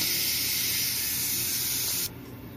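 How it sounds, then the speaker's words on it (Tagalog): Steam hisses out of a pressure cooker being vented while beef for pares cooks, a loud steady rush with a thin whistle on top that drops to a softer hiss near the end. "Release muna natin yung ating steam."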